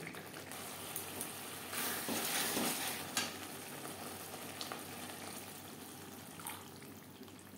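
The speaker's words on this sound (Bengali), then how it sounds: "মশলা বেশ ভালো করে কষিয়ে নেওয়ার পর দিয়ে দেব জল।" Water is poured into spices frying in a little oil for a tilapia fish curry, giving a brief hissing sizzle burst over a quiet, steady background of cooking sizzle and faint clinks.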